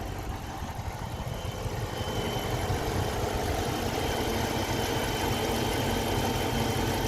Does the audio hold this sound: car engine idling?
yes